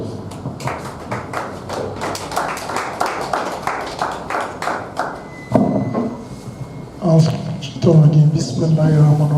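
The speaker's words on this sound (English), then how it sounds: "Round of applause, please." An audience at the official launch of the NFCA Oyo coaching course claps in a steady, loud rhythm for several seconds, then stops as voices and other sounds take over.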